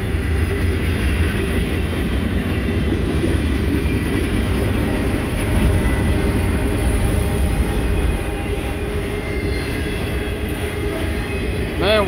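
A freight train rolls steadily past nearby, hauling derailed locomotives, with loud continuous low rumble of wagons and wheels and faint squeal toward the end, no talk.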